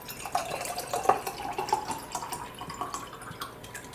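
Water being poured into a pot for spicy chai, a light splashing trickle with drip-like plinks up close, steady at first and tapering off toward the end.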